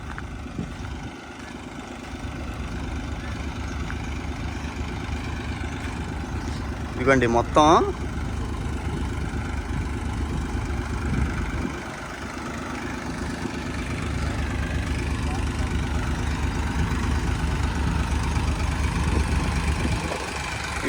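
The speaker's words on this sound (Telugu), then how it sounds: "మూడు ఇంజిన్లు ఆన్లో అయితే ఉన్నాయి ఆ ఉన్న వాటర్ని అయితే లాగుతున్నారు" Three engine-driven water pumps drone continuously at a low, steady pitch, pumping out water. A brief voice speaks partway through.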